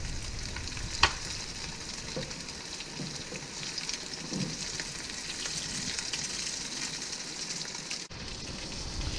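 Crappie fillets frying in a pan give a steady, close crackling sizzle that holds at an even level, with a few sharp pops and the clatter of a spatula now and then.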